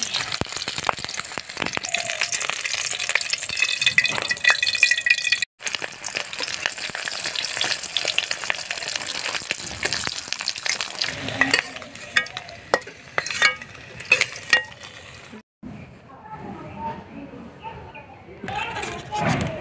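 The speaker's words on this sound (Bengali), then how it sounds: "খুব সাবধানে ডিমগুলো ভেজে নেওয়া লাগবে" Eggs fry in hot oil in a wok in a village kitchen, giving a steady close sizzle with stirring scrapes throughout. There is a brief drop near the middle and a quieter stretch near the end.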